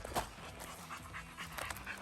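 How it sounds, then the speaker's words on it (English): A dog pants rhythmically while bushwhacking through brush on a hike toward a river, quick breathy huffs close to the microphone with rustling around it and no talking. "So me and my dog Hazel are currently just bushwhacking"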